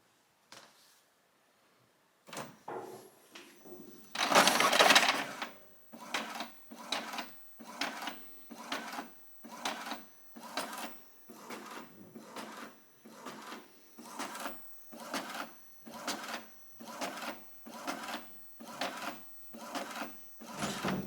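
An Epson printer runs close by, starting with a whir, then a steady series of regular mechanical pulses as the print head shuttles back and forth.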